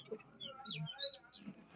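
A small bird gives a quick series of high, thin chirps and tweets, quiet and fairly close, with a faint low voice murmuring underneath.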